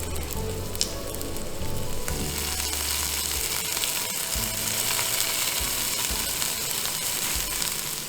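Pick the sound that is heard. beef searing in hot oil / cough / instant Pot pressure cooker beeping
beef searing in hot oil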